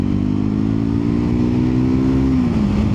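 A Triumph Scrambler 400X motorcycle engine drones loudly and steadily as it accelerates in second gear, its pitch gradually falling near the end, heard from the rider's position with no talking.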